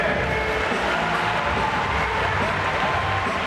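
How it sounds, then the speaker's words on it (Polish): Spectators applaud at an indoor show-jumping competition in Lublin, a loud, continuous wash of crowd clapping filling the arena without pause. "Jeszcze jedne brawa"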